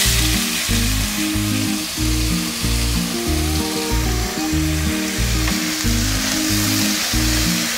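Cut potatoes hitting hot oil with a five-spice tempering, giving a loud, steady frying sizzle that runs throughout with no talking.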